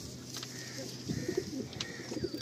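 Madrasi pigeon cooing softly at close range, a few low throaty coos in the second half over faint background noise.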